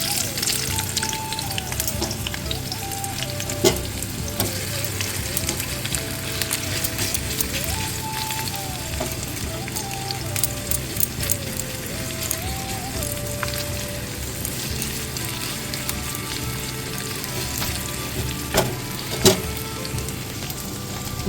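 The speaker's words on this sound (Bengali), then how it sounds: "আর একটু পেঁয়াজ কুচানো দিয়ে দেবো।" Chopped onion with a few dried red chillies frying in oil, a continuous close sizzle with faint stirring and scraping, holding steady throughout with no talk.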